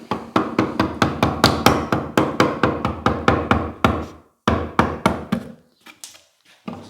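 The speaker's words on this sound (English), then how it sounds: "Then what you're working on then is just using a chisel." Chisel struck with a hammer on a wooden door frame being repaired, a close, loud run of about twenty sharp, even blows in a fast steady rhythm, then a pause and a few slower, scattered strikes.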